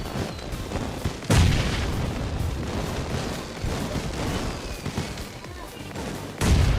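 Repeated sharp booms and bangs from New Year firecrackers bursting in the game BGMI, sounding through game audio with a steady background rumble.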